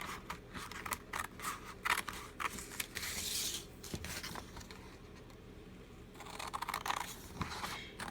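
Scissors cut the top and bottom flaps off a cereal box cover, with close, crisp snips and cardboard crunching in an uneven rhythm.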